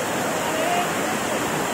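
Waterfall at Bhendewadi, a scenic tourist spot, pouring in a steady broadband rush of falling water, constant and fairly loud throughout with no break.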